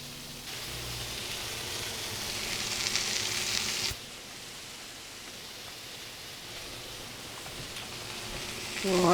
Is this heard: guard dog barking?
no